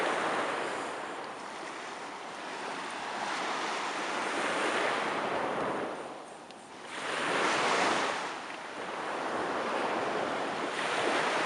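Ocean surf rolls onto a beach in steady, loud washes, with two distinct swells cresting around the middle and end, mixed with some wind noise on the microphone and no voices.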